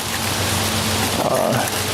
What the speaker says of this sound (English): It's starting to rain right now.